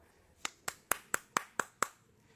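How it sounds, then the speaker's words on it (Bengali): Seven sharp, evenly spaced hand claps ring out close and clear, each one decaying quickly in a quiet room. "তালি দে বেড়া, তালি দে।"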